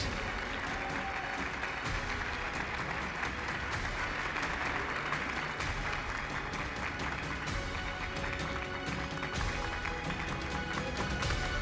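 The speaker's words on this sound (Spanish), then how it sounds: "Ahora sí un fuerte aplauso, por favor." Sustained audience applause at a pre-gala awards ceremony, a dense, even roar of many clapping hands continuing for over ten seconds at a steady, moderately distant level with no voices on top.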